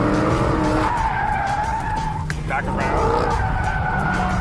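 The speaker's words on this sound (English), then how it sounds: "you want to use weight transfer and the throttle, this thing, to get the drift going" A Dodge Charger drifts with its tires skidding and squealing loudly and continuously over a roaring engine, the screech wavering as the car slides, while a voice speaks briefly over it.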